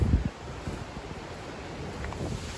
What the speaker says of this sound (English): there's some major wind blowing through here